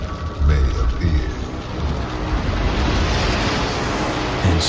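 Sea waves surge and wash steadily throughout as a sound effect in a dramatized Bible reading of the creation story, with a brief swell near the start and end; no voice is heard.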